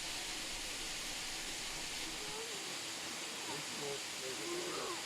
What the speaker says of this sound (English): Eventually we came to Antakarana waterfall at the end of the trail